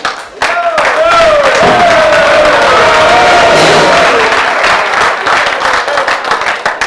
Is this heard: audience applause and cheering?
yes